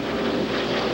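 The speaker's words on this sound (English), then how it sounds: "Super Corsair, the wingtips are clipped off. Very high-speed airplane." Super Corsair clipped-wing racing airplane at an unlimited air race in Sherman-Denison, Texas, a steady, loud engine drone that holds without break through the whole second.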